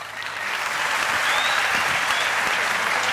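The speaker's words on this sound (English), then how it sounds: "Big applause for Roberto." Sustained applause from a talent show audience, steady and full throughout, with clapping swelling in at the start and holding at a constant level.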